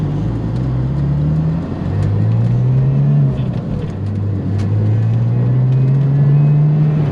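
A twin-turbo Porsche 911 Turbo (996) engine accelerates hard, its deep rumbling note climbing steadily in pitch through several pulls, loud and close with no talking.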